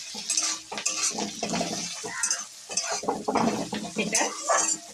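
Turmeric, chili powder and cumin fry in a pan as a utensil stirs and scrapes against the metal, with a soft sizzle and irregular clinking strokes close by.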